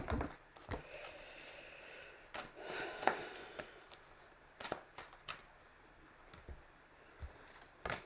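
Tarot cards being shuffled by hand, faint and close, with soft irregular rustles and a few sharper clicks and taps scattered through several seconds of quiet.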